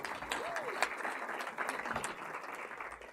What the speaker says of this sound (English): Let's give a big round of applause for Sophie.